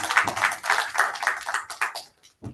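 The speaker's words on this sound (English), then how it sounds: "Please give a huge applause to both of them." Steady clapping from a small conference audience, a fairly dense patter of hands that carries on for about two seconds and then stops abruptly.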